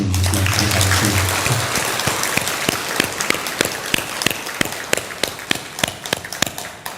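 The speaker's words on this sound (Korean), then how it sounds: "우리 함께 찬탄의 박수를 보내주시면 감사하겠습니다." Audience applause at a Korean Buddhist dharma talk, a dense clapping wash that thins into scattered individual claps over about seven seconds, with brief speech at the start.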